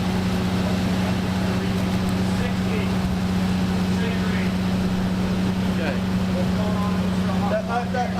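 A steady low Chevrolet car engine drone runs throughout at a constant 700 rpm, with a strong hum and faint background noise, while people talk quietly nearby.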